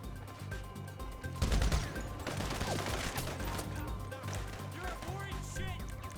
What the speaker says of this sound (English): I deduce from the sound of gunfire that you have not gone for the stealthy approach